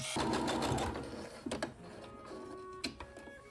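A sewing machine stitches the side seam of fabric armor pants, running in a loud, close, rapid whir for about a second, then giving a few short stop-start bursts, with no talking.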